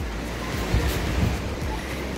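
Ocean surf rolls onto the beach at Daytona Beach, heard from a balcony above as a continuous broad wash of breaking waves with gentle swells, mixed with some wind noise on the microphone.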